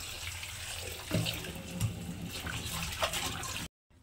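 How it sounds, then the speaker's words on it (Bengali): Jute leaves being washed under a running kitchen tap: steady close water flow with splashing and rustling as the leaves are handled, stopping abruptly near the end. "শাকটাকে খুব ভালো করে ধুয়ে নিচ্ছি"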